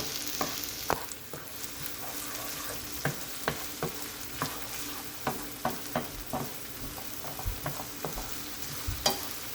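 Seasoned vegetables for Jamaican-style tacos sauté in a pan, with a steady sizzle broken by repeated scraping stirs of a utensil at a regular rhythm, close and without talk.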